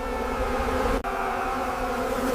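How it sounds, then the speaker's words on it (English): Dense swarms of flies drone in a continuous, loud buzzing hum that holds steady throughout, with one brief dropout near the middle. "Then came swarms of flies, overwhelming the land."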